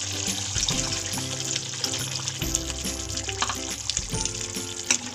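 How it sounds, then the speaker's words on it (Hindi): A bowl of water is poured into a pan of cooking matar paneer with peas, giving a loud, close splash over steady sizzling and bubbling, with no talking. "अब हम इसमें 1 कटोरी पानी ऐड करेंगे।"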